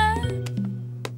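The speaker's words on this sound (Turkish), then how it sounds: "Şimdi seni bu miyavlamanı düzeltmemiz lazım." A cat gives a short, close meow that rises and then falls, heard alone against a quiet background.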